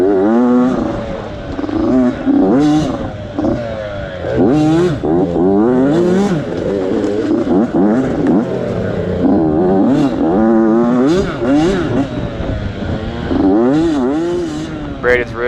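Off-road mini motorcycles race through a hare scramble, their small engines revving and whining up and down in pitch under continuous commentary.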